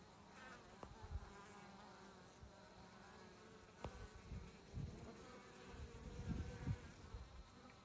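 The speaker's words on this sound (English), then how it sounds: "A bee was bumping into my hand." Bees buzz close by at a newly installed package beehive, a steady insect drone with a few louder passes as individual bees fly near, and no talking.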